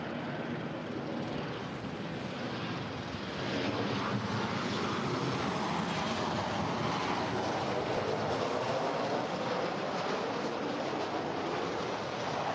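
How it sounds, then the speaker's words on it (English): Southwest Airlines Boeing 737-800 jet, Flight 2192 from Albuquerque, landing at LAX, a steady broad engine roar heard from a distance that swells slightly partway through and then holds, with no talk. "Here we have Southwest Airlines Flight 2192 coming in from Albuquerque. It's a 737-800."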